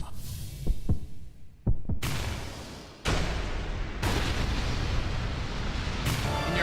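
Heavy heartbeat thuds from the Hollow Knight game: a few low, separated pulses early on, then a deep rumbling, booming drone that swells and holds loud to the end.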